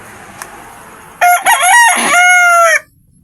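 A native junglefowl rooster lets out a single loud, close crow lasting about a second and a half, heard alone over a quiet background.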